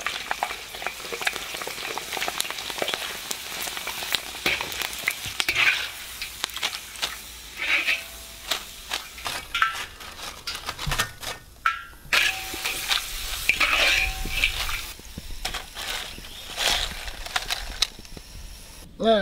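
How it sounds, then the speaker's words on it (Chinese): Food deep-frying in oil held at about 70 degrees over a low flame, a busy crackling sizzle with bursts of bubbling and occasional clatter of utensils, fairly loud and close throughout. "油温烧到90度，关火，量到70度开始炸。"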